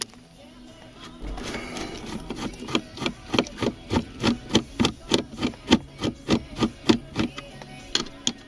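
A Mercedes-Benz W202 C280 dash panel being worked loose produces a rapid series of rhythmic plastic rubbing and creaking strokes, close up and moderately loud, building over several seconds.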